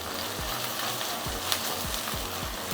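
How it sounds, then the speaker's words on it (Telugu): Ginger fries in a pan with a dense, steady sizzle, joined by a regular low thumping pulse in the background and no voices. "అల్లం వేగాల."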